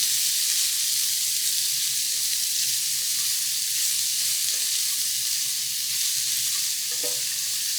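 Potato slices cooking in butter in a pan for a rustic French potato dish, a steady close sizzle and hiss with faint stirring scrapes, no voices.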